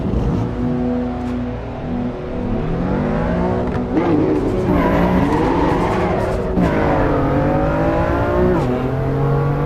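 Race car engine in Assetto Corsa EVO revving and pulling away, loud and close, with the pitch rising and falling through gear changes as the car accelerates steadily.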